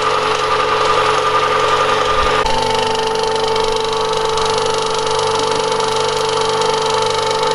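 Emco V10-P lathe with an oil leak, running loud and steady with a constant mechanical whine and hum that shifts pitch slightly partway through after a speed change.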